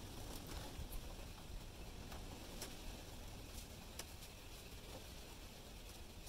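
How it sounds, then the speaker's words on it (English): Small wind turbine spinning fast in strong wind, a steady faint roaring whoosh with airy buffeting and no speech. "Now, the turbine is really going for it by the sounds of it."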